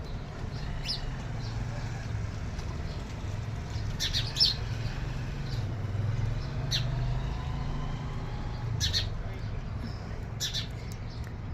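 Sparrows around their nests give scattered, faint chirps, a few brief calls spread across the stretch over a steady low background hum.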